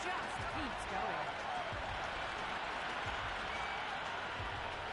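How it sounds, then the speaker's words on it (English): Stadium crowd in the Cricket 26 video game cheering after a six in an India vs Namibia T20 World Cup match in Delhi, a steady dense roar that holds at full level throughout, with commentary voices over it. "You can really feel the buzz around the spectator areas."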